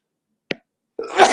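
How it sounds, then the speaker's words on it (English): A person sneezes twice on a team call: a short, sharp first burst, then after a brief silence a louder, longer, breathy second sneeze. "you sneeze twice"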